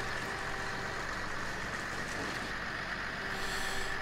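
A combine harvester in Farming Simulator 15 running with a steady, droning engine hum and a constant mechanical whine, unchanging and moderately loud throughout, with no talk.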